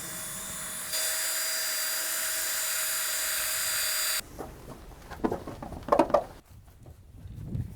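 A polisher fitted with a cutting pad buffs the surface of an RV, giving a steady high-pitched electric whine for a few seconds. It then cuts off, leaving scattered knocks and handling noises.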